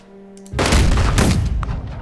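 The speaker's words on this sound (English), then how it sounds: "we're going to go for suppressive fire against that dug-in unit" Suppressive gunfire aimed at a dug-in unit in the strategy game Unity of Command 2: after a brief quiet hum, a sudden loud burst of shots and booms erupts and rumbles on to the end.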